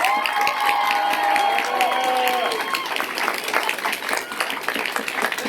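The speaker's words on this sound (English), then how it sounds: "can we have another big round of applause for Lizzie for organizing all of this" Outdoor crowd at a Black Lives Matter march claps and cheers loudly, with whoops and shouts rising over a steady wash of applause that continues throughout, some voices carrying over it.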